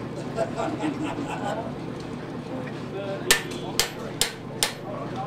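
Hammer blows on a piece of half-inch metal to mark a line for a hot chisel, four sharp ringing strikes in a quick even series after some quieter background sound.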